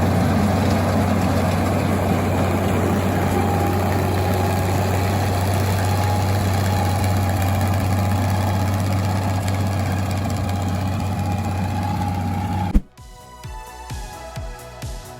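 A New Holland 900 Speed Rover self-propelled windrower engine runs at a steady, loud, low hum with a constant drone, ending abruptly in a burst of different sound.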